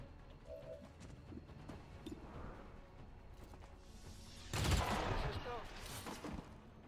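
Gunshots in the turn-based strategy game XCOM 2: Long War of the Chosen, a short loud burst of fire standing out after several quiet seconds of low game ambience.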